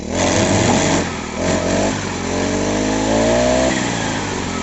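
A 411 or Kanto 4 grass trimmer's small two-stroke engine revs loud and close. It rises and dips through several throttle pulls, with a short drop in pitch partway through.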